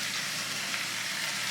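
Food sizzling in hot frying oil with no oven in use, a steady hissing crackle running unbroken and at moderate level with no voices.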